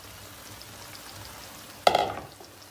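Egg batter poured into a pan of potatoes, a sudden close sizzle erupting after quiet low hum and fading over about a second, no talk.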